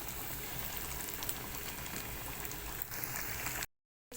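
Cordon bleu frying in very hot, plentiful oil, a dense continuous bubbling sizzle heard close and even, cutting briefly to silence near the end.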